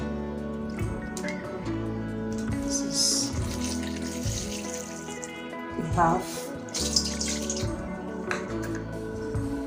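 Extremely cold water is poured into a chilled bowl for whipped cream icing, with splashing and dripping sounds up close while a person talks over much of it.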